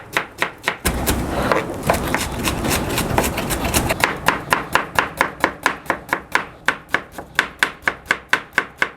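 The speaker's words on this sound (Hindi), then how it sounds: "तो इस तरीके से आपने सारे प्याज को चॉप कर लेना है।" Onions chopped finely with a knife on a cutting board, a fast regular tapping of blade strikes, close and loud, blurring into a continuous rapid flurry in the middle before slowing back to distinct even chops.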